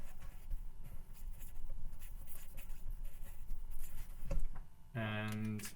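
Rubbing of an eraser against a board after math work, a scratchy patter under low background noise, ending in a brief tonal buzz.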